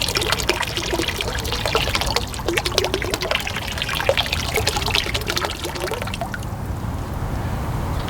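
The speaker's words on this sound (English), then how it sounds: "We're going to dump in the enzymes." Enzyme liquid being poured into hot tub water, a steady trickling, splashing pour close by that runs for several seconds and then thins out to a quieter trickle near the end.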